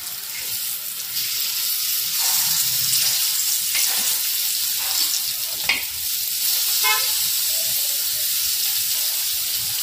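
Fish fries on a tawa in hot oil, giving a loud, continuous sizzle and hiss with occasional stirring scrapes and a brief horn-like tone, no speech.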